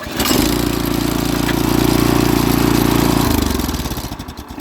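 A small garden-machine engine cranks and fires, then settles into a loud, steady idle close by before winding down toward the end, with no talking.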